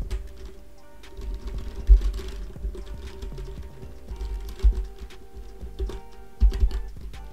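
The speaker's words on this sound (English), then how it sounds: "So I'm typing a new product again." Soft, scattered keyboard taps in short irregular bursts, fairly close, with a few louder thumps and low background hum.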